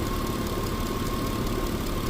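A 2004 Mitsubishi Eclipse with the 3.0L engine idles steadily, a low continuous engine drone with faint knocking texture and no talk over it.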